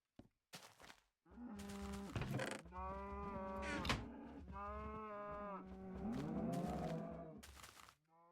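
Several cows moo loudly in a video game, long harmonic calls overlapping one after another with a short knock near the start.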